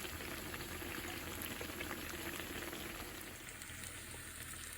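Cornmeal hoe cakes sizzle in a pan, a steady dense crackling and hissing of frying that continues evenly throughout, fairly quiet and with no talking.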